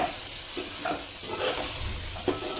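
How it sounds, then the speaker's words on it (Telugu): Chicken curry being stirred in a pot right after chili powder goes in, with a steady sizzle and several scraping strokes of the spoon, close and fairly loud, with no voices. "కారం వేసుకున్న తర్వాత ఒకసారి మంచిగా కలుపుకున్నారండి"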